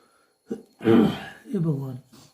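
A person coughs and clears their throat in a few short, close bursts between quiet pauses.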